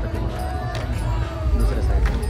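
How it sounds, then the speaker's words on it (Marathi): A dense crowd gathers on a river bank for a Ganpati idol immersion, producing a steady murmur of mixed voices and general hubbub, with a voice speaking over it. "नदीचे तिरी बघा किती गर्दी"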